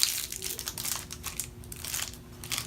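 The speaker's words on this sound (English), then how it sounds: "We can start off by peeling open your 18 gauge needle" Thin plastic packaging crinkles and crackles close by as an 18 gauge injection needle is peeled open, a steady run of soft rustles with no talking.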